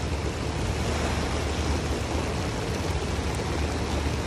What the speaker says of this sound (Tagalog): Umuulan, yung alon,